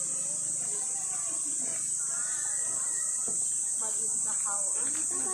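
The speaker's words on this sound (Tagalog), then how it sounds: "May mga kuliglig." Crickets chirp in a constant high, shrill drone at a resort outdoors, loud and unbroken throughout, with faint voices and background sounds beneath.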